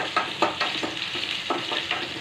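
Garlic and curry leaves frying in hot oil in a kadai, giving a continuous bright sizzle broken by a few sharper crackling bursts as the pan is stirred.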